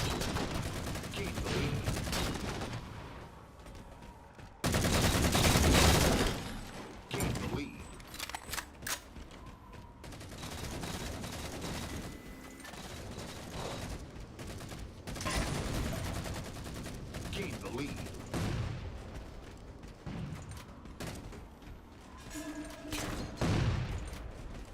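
Cannon blasts and gunfire in the video game Anthem, with a loud burst of shots early on and repeated bangs throughout, under a player's excited talking.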